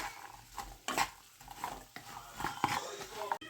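Chopped long beans being mixed in a pan for a Kerala-style stir-fry, with a series of soft scrapes and knocks of a spoon against the pan, fairly faint and irregular.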